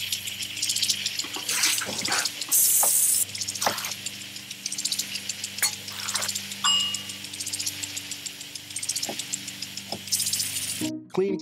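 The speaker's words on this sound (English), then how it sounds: "Clean kitchen surfaces, utensils, and hands with soapy water." Water runs steadily from a kitchen tap into a sink for cleaning surfaces, utensils and hands, a continuous close splashing rush with brief clinks and knocks of items, then stopping abruptly at the end.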